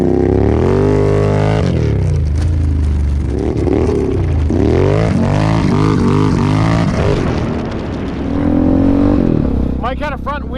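A Yamaha Raptor 700 ATV rides on pavement, its engine droning loudly and rising and falling in pitch as it revs and shifts, with voices talking over it.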